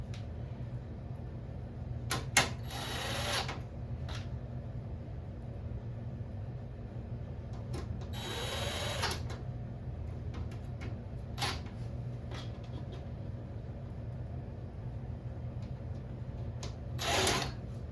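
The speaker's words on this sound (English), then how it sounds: "Well, let's just start screwing it together and see what happens." Parts of a Journey arcade cabinet being screwed together with MCR mounting plates, giving a few short, close bursts of screwdriver whirring and scattered clicks and taps over a steady low hum.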